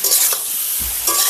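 Jackfruit and potatoes with sugar being stir-fried in a pan: a loud scrape of the spatula, a soft sizzle underneath, then another stirring scrape near the end.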